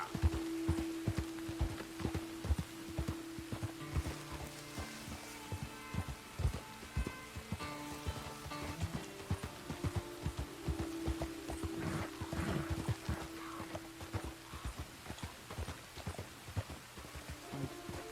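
Horse hooves clip-clop steadily in Red Dead Redemption 2, a quiet run of irregular hoof hits continuing over the whole stretch alongside soft tonal game music, with no talking.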